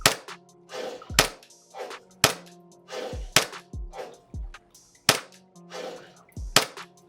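A Unicorn airsoft Glock Gen 5 pistol firing shots at a target, sharp snappy cracks spaced about a second apart, each followed by a short thwack, close and loud with quiet gaps between.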